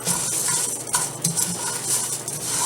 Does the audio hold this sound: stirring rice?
yes